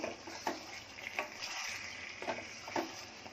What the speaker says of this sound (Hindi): चिकन में पानी नहीं पहले डालूंगी, पहले चिकन मसाले में ही भूनूंगी अच्छे से